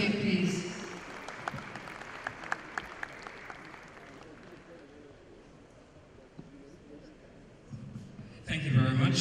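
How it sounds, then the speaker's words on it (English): Audience applause at a citizens' summit, a steady dense clatter of many hands that fades after a few seconds, with a voice speaking quietly beneath it before a fresh burst of sound at the end. "A round of applause for him, please."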